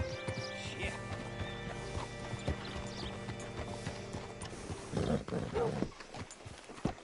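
A horse in the Red Dead Redemption 2 video game clops along with steady hoofbeats under low ambient noise, and a neigh rises near the end amid a few scattered thuds.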